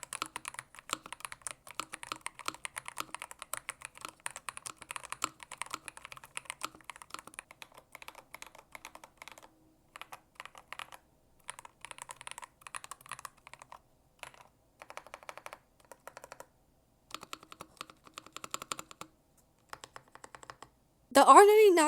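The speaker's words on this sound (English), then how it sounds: "Let's do a typing test." Fast, steady typing on a Royal Kludge R99 96% mechanical keyboard with swappable switches, a dense clatter of close, crisp keystrokes in bursts with short pauses, ending in a brief louder noise.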